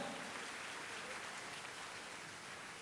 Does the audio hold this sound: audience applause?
yes